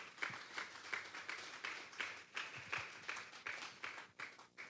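A church congregation claps together in a steady, rhythmic beat during a worship service. The fairly dense applause fills the room in regular pulses, with a faint murmur of voices underneath.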